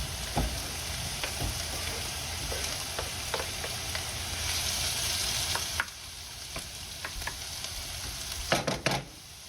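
Onion and garlic fry for Filipino fried rice with a steady close sizzle, broken by scattered utensil clicks and scrapes and a few sharper knocks near the end.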